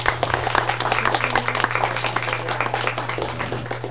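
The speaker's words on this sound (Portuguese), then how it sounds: "Já tá aplaudindo." A crowd at a religious healing gathering applauds continuously, dense overlapping claps at a steady loud level over a low constant hum, with no distinct speech.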